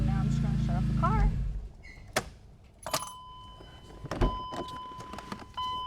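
The engine of a BMW E46 M3 with aftermarket exhaust valves rumbles deep and loud for about a second and a half, then is switched off. Scattered clicks, clunks and a few electronic chimes follow in the quiet cabin.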